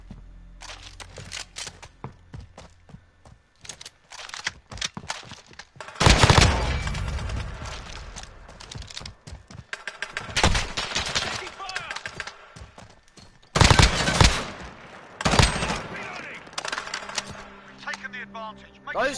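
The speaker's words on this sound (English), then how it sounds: "Those decoy grenades are so dumb." Gunfire in a Call of Duty Modern Warfare 2v2 match, with decoy grenades in play, giving loud, dense bursts of shots and sharp cracks that come in uneven clusters, mixed with game sounds and voices.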